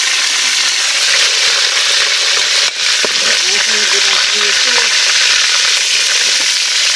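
Food frying in a pan during a New Year's meal on an island, a steady loud hiss with a sharp pop near the start and faint voices murmuring underneath.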